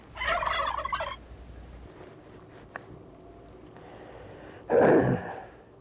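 A turkey gobbles in a quick rattling burst, falls quiet with faint background sounds, then lets out a second louder, closer gobble near the end.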